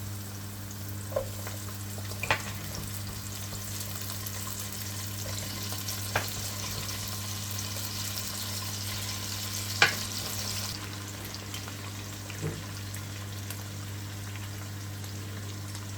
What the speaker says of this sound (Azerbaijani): Bu qədər qovrulanda bura əlavə eləyirəm əti